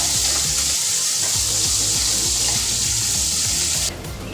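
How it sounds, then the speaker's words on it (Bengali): Okra frying in a pan for a vegetarian Bengali dish gives a steady, loud broadband hiss throughout, dropping slightly near the end, with no voices. "আর একটু সময় আমি ভেজিটাকে ভেজে নেব কেননা আর একটু ভাজা হওয়া দরকার"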